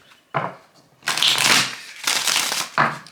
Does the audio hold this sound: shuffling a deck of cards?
yes